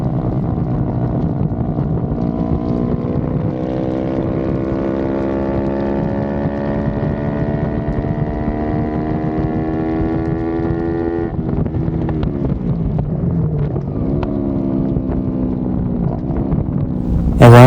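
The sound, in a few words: motorcycles racing on track, Supersport 350 race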